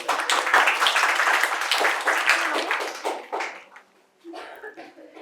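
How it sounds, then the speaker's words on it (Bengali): An audience at a quiz contest at Santiniketan Medical College and Hospital claps in a dense, steady burst of applause that fades after a few seconds, followed by a brief voice. "জোরে হাততালি হয়ে যাবে।"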